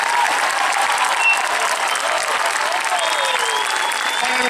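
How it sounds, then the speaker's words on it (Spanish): Loud, steady applause from an outdoor crowd after dance performances in a park, dense and continuous from start to finish, with faint whistles or calls drifting over the clapping. "voy a pedir un fuerte aplauso para todos los que actuaron hoy"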